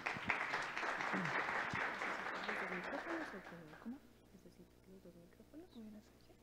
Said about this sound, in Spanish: Un fuerte aplauso para nuestros panelistas.